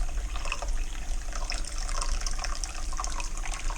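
Tap water runs steadily into a measuring cup at a kitchen sink while bread is being made, a continuous close rushing splash with no talk.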